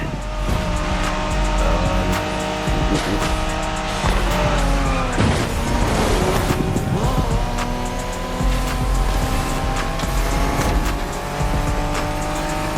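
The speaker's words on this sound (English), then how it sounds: "We're going for some proper Japanese street racing." Japanese street racing in The Crew Motorfest game: engines roar continuously and loudly, with tires squealing and skidding through corners and cars passing close by.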